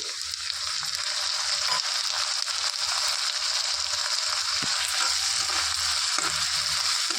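Soaked dried prawns frying in hot oil with browned onions for a ridge gourd curry, giving a continuous loud sizzle with occasional soft stirring knocks, close and uninterrupted.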